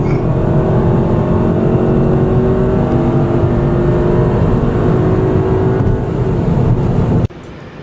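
A 2015 VW Jetta GLI 2.0T SE pulls hard under acceleration, its turbocharged engine droning loudly and steadily for about seven seconds before cutting off abruptly.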